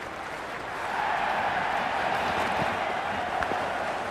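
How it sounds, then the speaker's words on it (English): Cricket stadium crowd before an India vs South Africa T20 match, a broad continuous roar of many voices that swells after the first second and holds steady, with faint scattered claps. "already the crowd making a hell of a racket"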